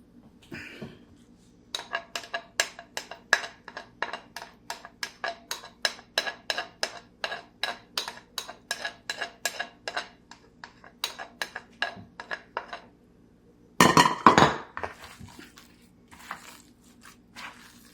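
A utensil taps and scrapes quickly and rhythmically against a bowl while a stick of butter is stirred into gluten-free cookie dough with cinnamon. A louder, crunchy clatter comes briefly near the end.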